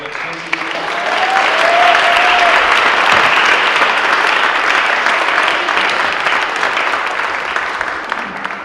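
An audience at an awards ceremony applauds, a dense, sustained wave of clapping that swells in the first seconds and then holds at a loud, even level with no break.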